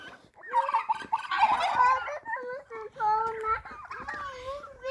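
Rural farmyard turkeys gobble in repeated bursts, fairly close, alongside other fowl, with children's voices heard in the mix.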